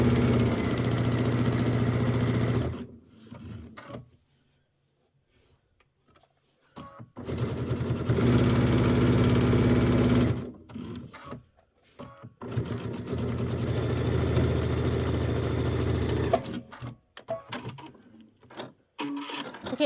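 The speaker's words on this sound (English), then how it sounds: "You just sew." A sewing machine stitches a quilt section in three bursts of rapid, even mechanical whirring, each lasting a few seconds and separated by short quiet pauses with faint handling noises.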